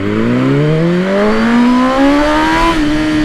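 Loud, close run-up of a BMW M 1000 R superbike from rest, its engine note rising steadily in pitch through one long pull before a quick shift near the end, with no talking.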